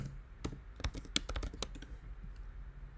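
Quick bursts of typing on a computer keyboard, a cluster of crisp key clicks in the first two seconds, then quieter room tone.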